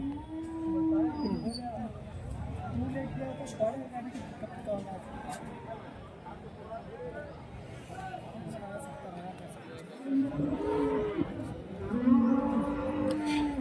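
Cattle moo at a busy livestock market where Jersey and HF cows and calves are sold, drawn-out lowing calls rising over constant crowd chatter and people talking close by.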